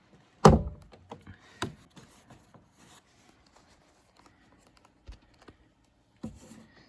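A plastic speaker mounting clip clicks into its hole on a 1994-1996 Chevy Caprice 9C1 during a front 4x6 speaker replacement; four sharp, close clicks come spaced irregularly, the first loudest, with quiet handling noise between.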